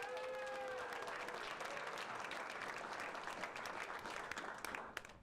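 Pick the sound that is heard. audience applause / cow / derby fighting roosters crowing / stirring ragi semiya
audience applause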